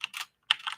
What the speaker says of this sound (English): typing these levels